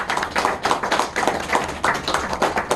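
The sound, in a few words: audience applause at book concert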